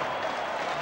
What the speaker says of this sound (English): Tremendous applause from everybody here at Footscray.